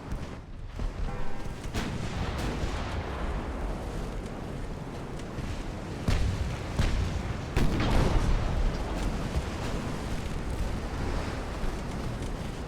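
Naval gunfire from warships in Ultimate Admiral: Dreadnoughts, a steady dense rumble of distant heavy cannon with several louder booming salvos around the middle, over continuous wind-like roar and no talk.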